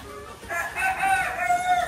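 A rooster crows close by, a drawn-out call lasting over a second, with faint clucking around it. There is no talking.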